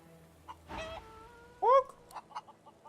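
A chicken in Divinity: Original Sin 2 gives a few short, tonal clucks and one louder rising squawk, scattered against a quiet game background.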